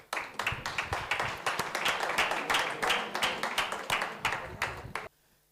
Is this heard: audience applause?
yes